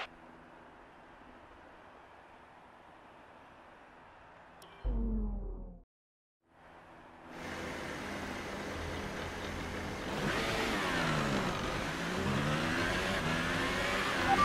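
A Formula 1 car's engine idles quietly, drops out briefly, then climbs into loud high-pitched revving, running up through rising pitch sweeps as it goes through the gears.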